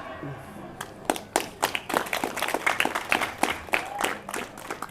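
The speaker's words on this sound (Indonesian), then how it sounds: "Saya senang kalau bapak-bapak tepuk tangan" An audience at a talk about entas-entas and piodalan ceremonies claps in a lively, uneven burst of applause, moderately near and lasting several seconds.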